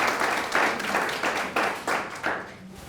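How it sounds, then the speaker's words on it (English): Warm audience applause greets a doctor at a shoulder-health wellness lecture, a full burst of clapping with rhythmic swells, loud and close, tapering slightly at the end. "please welcome him with a warm applause"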